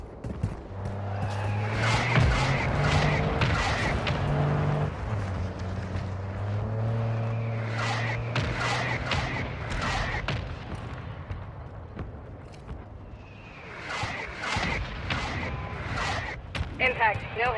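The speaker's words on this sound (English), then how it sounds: "Copy. Mortar strike inbound now." Mortar strike explosions in Call of Duty Warzone Mobile, heavy booming impacts arriving in bursts over a steady engine-like drone, loud and close, with game voice lines speaking over the action.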